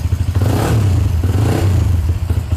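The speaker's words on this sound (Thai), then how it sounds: "แล้วติดเครื่อง" An old motorcycle engine fires and runs in a used-vehicle warehouse, giving a loud, close, rough low throb with uneven clattering pulses.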